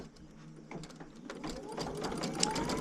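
A sewing machine runs stitches on a motif, quiet and close, with rapid mechanical clicking and whirring that grows slightly busier over a few seconds.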